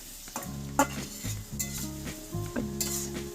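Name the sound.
stirring fish and spices in a frying pan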